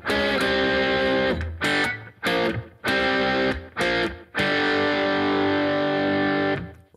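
A distorted electric guitar plays an intro riff, several short chopped chords followed by a long sustained one, loud and heavily overdriven.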